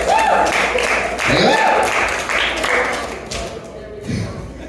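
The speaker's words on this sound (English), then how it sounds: "Give yourself a hand. I'm serious. Clap." An audience claps at a comedy show after being told to give themselves a hand, the applause mixed with crowd voices and cheering for several seconds.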